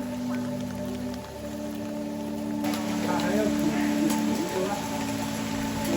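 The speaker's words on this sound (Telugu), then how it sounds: "మొత్తం వర్షం పడతా" Steady rain patters and hisses throughout on a mountain, with a low mechanical hum running underneath.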